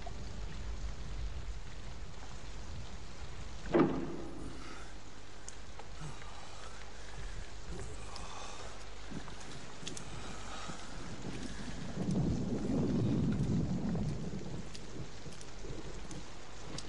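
Steady heavy rain falls with rolling thunder as a sound effect in a Romanian audio drama about the prophet Elijah, a sharp crack early on and a deeper rumble swelling later, no voices.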